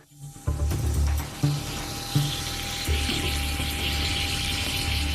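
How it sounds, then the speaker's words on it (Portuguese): Lithium metal reacting in a glass of water, a continuous fizzing, crackling hiss with repeated low thumps and clicks underneath, fairly close and steady. "aqui está o que acontece com o lítio se você colocá-lo em um copo de água"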